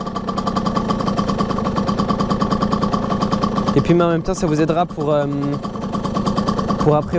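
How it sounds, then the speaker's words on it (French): A motorcycle engine idles with a steady rhythmic chug, someone speaking over it near the end. "faites tourner un petit peu votre moto."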